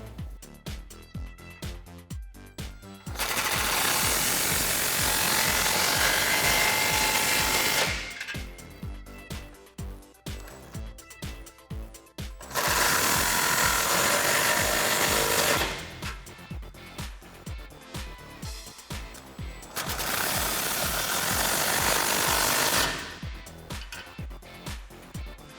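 A 15 mm muffler clamp is loosened on a Jeep Gladiator JT Flowmaster dual exhaust. Runs of rapid ratcheting clicks alternate with three sustained, loud whirring tool bursts.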